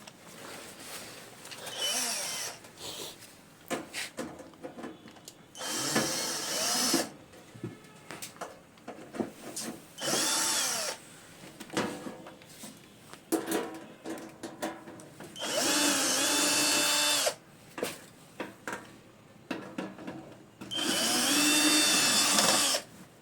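Nuts being unscrewed to open an amplifier with a power tool: loud whirring bursts of a few seconds each, repeated several times, with quieter handling noise between them.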